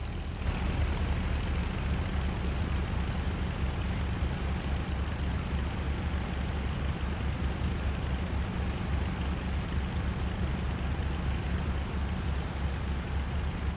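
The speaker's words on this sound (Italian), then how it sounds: "devo rifare la procedura di accensione perché non mi era partito il motore sinistro" A twin-engine aircraft's engine rumbles at a steady idle in the IL-2 Sturmovik flight game, a dense, constant low drone that stays loud and unchanging throughout.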